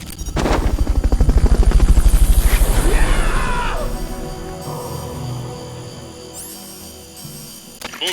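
Helicopter from Metal Gear Solid Peace Walker, the Fulton recovery chopper, rotor thumping loudly and steadily for about four seconds, then fading into quieter game ambience with a few clanks and a brief whoosh near the end.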